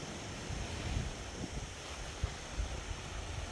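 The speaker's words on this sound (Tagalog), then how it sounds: "no boat here today because the waves is so, so strong" Strong ocean waves wash onto a beach in Mallorca in a continuous low rumble of surf, blended with wind buffeting the microphone.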